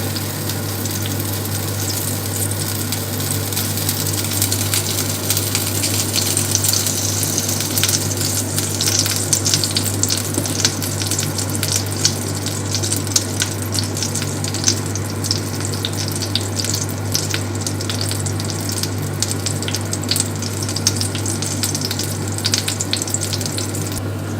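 Crepe batter cooks in a hot pan with a steady, even sizzle that runs unbroken for a long stretch, close and moderately loud, joined by a constant low hum and no talking.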